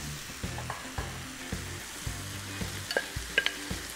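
Pasta with sausage and broccoli cooks in a pan with a steady close sizzle and frying hiss, broken by repeated scraping stirs and a few clinks, and no one talks.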